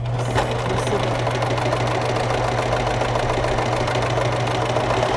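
A sewing machine runs steadily, stitching a pillow seam with a continuous rapid mechanical hum and rattle, close and alone without talk.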